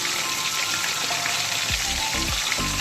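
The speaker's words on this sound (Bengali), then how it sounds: "তেলটা গরম হয়ে গেছে, এবার আমি আলুগুলো দিয়ে দেব।" Potatoes fry in hot oil seasoned with salt and turmeric inside a pressure cooker, a close, loud, continuous sizzle with a few brief scraping tones near the end.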